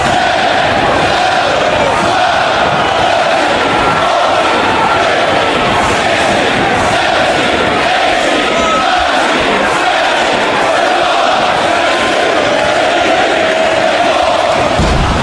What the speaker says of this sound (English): And you hear the crowd counting.